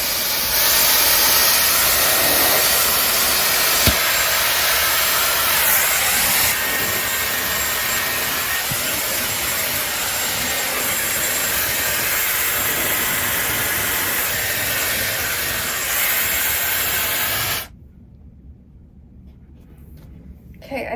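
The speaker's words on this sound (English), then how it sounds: "Let's try and blow dry it a little bit." A Dyson Airwrap Long blows hot air through wet hair, a loud, steady roaring rush that holds for most of the time and then cuts off abruptly near the end.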